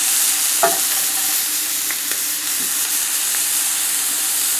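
Shrimp searing in a hot frying pan until crisp and blackened, a steady broadband sizzle with a few faint utensil taps, continuous and fairly loud with no talking.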